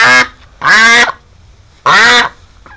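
Big ducks quack loudly nearby in three separate calls with short gaps between them, with no talk over the sound.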